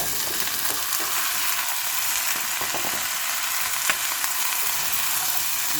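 Chayote pieces go into a pan of cooking meat, giving a steady loud sizzle with occasional stirring scrapes and clicks.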